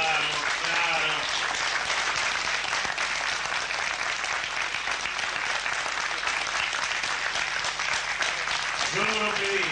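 An audience applauds for Seminara at a tango tribute, with continuous, loud, dense clapping and a voice speaking briefly at the start and end.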